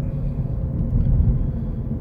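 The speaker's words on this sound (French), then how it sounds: "Si les bruits de la voiture te dérangent" Steady low rumble of a car's interior while driving, a continuous road and engine drone heard from inside the cabin, moderately loud with no voices.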